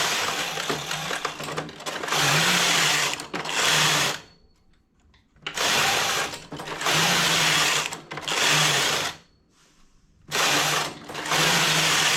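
The carriage of a domestic knitting machine slides across the needle bed in repeated whirring, clattering passes, loud and close, separated by short quiet pauses.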